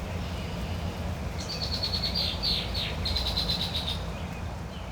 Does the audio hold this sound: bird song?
yes